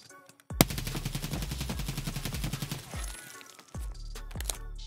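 Rapid automatic gunfire in Escape From Tarkov, a long rhythmic burst of loud shots fired in quick succession, a short pause, then another burst, with no talking.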